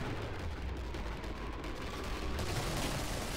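Pistol fire in Killing Floor blends into a steady, muffled barrage of shots and game noise, fairly quiet and without distinct separated reports.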